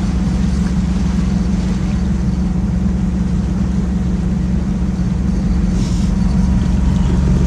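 A sailboat motoring under engine power along coastal cliffs, its engine giving a loud, steady low drone with constant water wash over it throughout.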